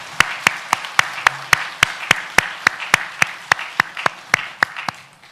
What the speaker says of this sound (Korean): 우리 감사와 영광의 박수 올려 드리도록